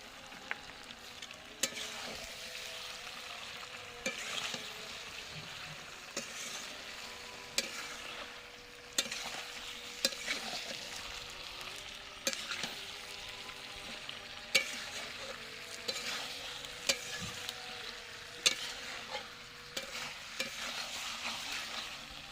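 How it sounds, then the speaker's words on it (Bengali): Chicken sautéing and frying in a clay pot, a steady sizzle punctuated by repeated spoon strokes scraping and knocking against the pot at an unhurried, regular pace, close up with no talking. "চিকেনটা কষানো হয়ে গেছে"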